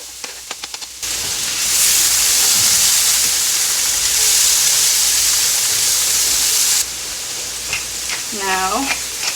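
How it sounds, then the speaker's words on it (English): Onions, carrots and celery hit a hot pot with oil and beef fat and erupt into a loud, sustained sizzle for several seconds before dropping away, with a few clinks beforehand and a voice at the end. "we're going to sear up our vegetables"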